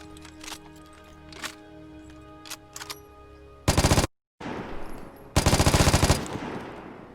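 Automatic gunfire from weapons in the video game Vigor: two loud, rapid bursts of shots in close succession, a brief gap between them, after quieter ambient game sounds and scattered clicks.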